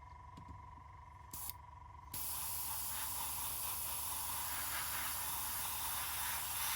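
Airbrush spray paint hisses steadily onto a 1:72 scale F-4 Phantom model, beginning with a few short bursts and then a loud, continuous spray that runs nearly the whole time, heard close with no talking.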